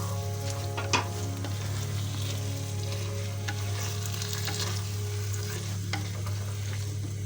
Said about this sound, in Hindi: इसको बहुत अच्छी तरीके से मिक्स कर लेना है